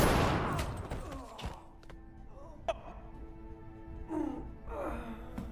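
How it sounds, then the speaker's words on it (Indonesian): Gunshot in a film scene, a sharp loud crack at the start followed by fading rumble, then quieter movie sounds and brief vocal noises. "tanpa diduga ia ditembak dari belakang oleh Freddy"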